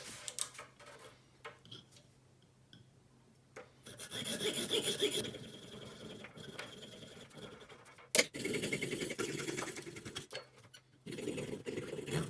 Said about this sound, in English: Blunt hacksaw and tough carbon fibre.